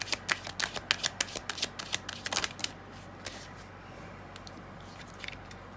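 A deck of cards is shuffled for a card reading in a quick series of crisp riffling snaps for about three seconds. Softer, scattered card handling follows, all close and with no voice.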